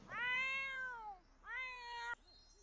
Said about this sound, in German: Jetzt miaut die Katze hier die Blume an, oder was?